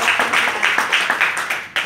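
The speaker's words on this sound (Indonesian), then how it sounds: "Ya luar biasa ya, tepuk tangannya." Hand clapping at a motivational talk, heard as a short run of distinct, evenly paced claps, close and moderately loud, more like a small group than a large crowd.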